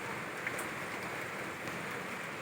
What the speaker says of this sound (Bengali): আজকে সকাল থেকেই এরকম বৃষ্টি হচ্ছে।